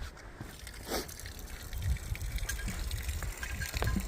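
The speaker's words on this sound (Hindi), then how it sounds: "पानी भर लेती हूँ यहाँ से मैं।" Water trickles and gushes steadily into a bottle being filled at a stream or spring on a mountain trek in November, with a continuous close-up splashing flow and no talking.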